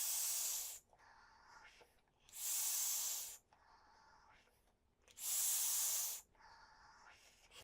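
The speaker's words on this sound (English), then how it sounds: "Let's vape on this guy and see what we get." A Sigelei VCIGO K3 vape kit at 80 watts with its airflow fully open draws in three long airy hissing pulls, separated by quieter pauses.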